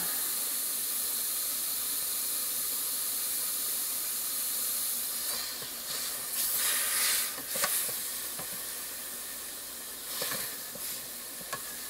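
Meat sizzling in a multi-cooker, a steady hissing fry with brief louder bursts of spitting and steam partway through, close and continuous with no talking.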